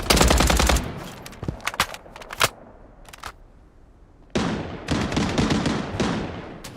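Gunfire in the shooter video game Bloodstrike comes in loud separate bursts: an opening volley, several sharp single shots through a quieter middle, then a long dense automatic burst near the end.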